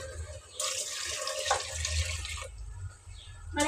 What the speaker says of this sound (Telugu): ఇంకా నీళ్ళు పోసేస్తా తగినవి